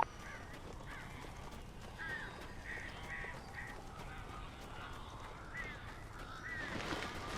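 Crows caw in the Alan Wake video game, several harsh calls scattered over a steady ambient game backdrop, moderately close and fairly loud throughout.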